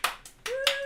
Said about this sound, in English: Round of applause, the audience.